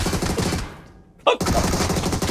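Shotgun firing in the mobile game PUBG Mobile: one sharp, loud blast lands abruptly after a brief lull, framed by dense game and room noise.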